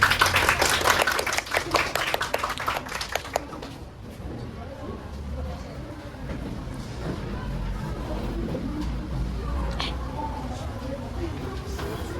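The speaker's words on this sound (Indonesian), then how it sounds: "Ya, tepuk tangannya" A primary school class of children clapping their hands together in a classroom, a dense burst of rapid claps for about three seconds that then stops, leaving quiet room murmur and scattered voices.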